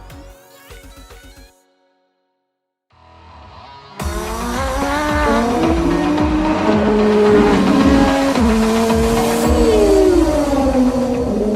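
An Audi RS5 DTM race car's turbo engine roars loudly past, with sharp rapid downshifts, burbles and revs rising and falling, after brief mechanical clatter and a short silence.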